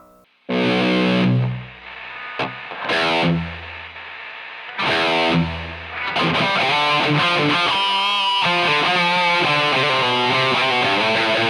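Heavy distorted electric guitar through an Underdog CHUCK all-in-one rig plays chunky chords with spacious reverb, short gaps between bursts, then a continuous wash of ringing, sustained notes.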